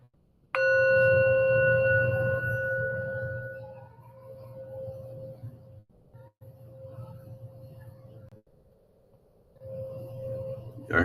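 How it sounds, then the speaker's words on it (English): A sound bowl is struck once, sending out a bright ringing tone with layered overtones that slowly fades over several seconds, over a low rumble and faint background voices. "Look, y'all, I've been practicing with the sound bowl."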